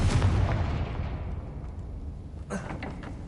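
A Confringo fire spell blast from the Hogwarts Legacy video game opens with a loud burst that fades into a long rumbling decay, followed by a smaller crackling pop near the end.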